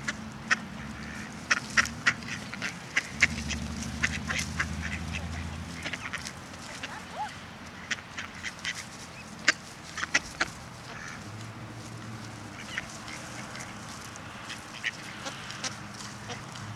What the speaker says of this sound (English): Ducks are fraidy cats.